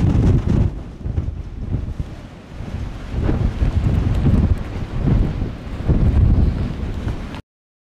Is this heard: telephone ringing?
no